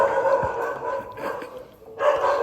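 A dog barks in a home, giving a few short yapping barks close by over a steady background hum.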